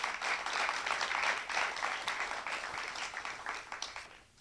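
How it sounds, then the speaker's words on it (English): An audience applauds the judges at a Poetry Out Loud recitation gala, giving a steady, fairly close round of clapping that runs about four seconds before tapering off at the end. "a round of applause for our judges"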